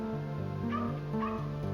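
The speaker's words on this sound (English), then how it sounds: "He heard their dog" A dog yips and whimpers in short high rising cries, several quick calls in a row close by, with a steady hum underneath and no voices.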